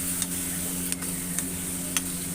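A spoon stirs macaroni with tomato in a pan, several distinct scraping clinks spaced out over a soft steady sizzle, close and fairly quiet, with no talking.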